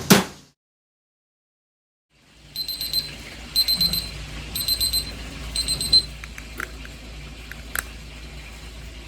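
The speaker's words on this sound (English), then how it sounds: "now we sit and wait until the alarm goes off" A kitchen timer alarm goes off while chicken breast steaks cook in a cast iron pan. After a short knock and a silent pause, it beeps in repeated rhythmic clusters, loud and close.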